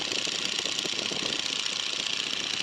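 The radial engine of a Navy PT-17 Stearman biplane drones steadily in flight, a loud, constant buzzing roar with a fast rattling pulse and no talk.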